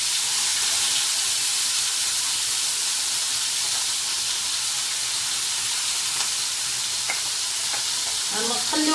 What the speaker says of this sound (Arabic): on va bien sauter les oignons jusqu'à ce que devient un peu doré.